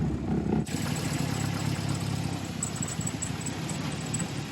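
A Volkswagen engine runs just after an oil change, a steady mid-pitched idle drone, close and continuous, with no talking.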